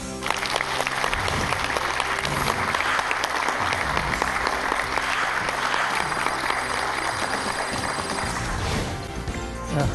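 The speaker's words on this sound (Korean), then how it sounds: "큰 박수 부탁드립니다" Audience applause welcoming a Sogang University philosophy professor onto the stage at a humanities lecture, a thick, even burst of clapping sustained for about ten seconds.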